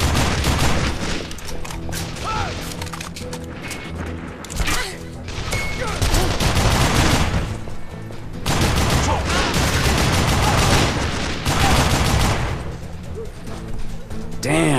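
Rapid gunfire bursts from the shooter game Call of Juarez: The Cartel, loud, dense volleys with brief pauses running throughout, mixed with shouted game dialogue and in-game sound effects.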